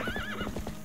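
A horse in Zelda: Twilight Princess gives a short, loud whinny over rhythmic hoof clops, close and brief.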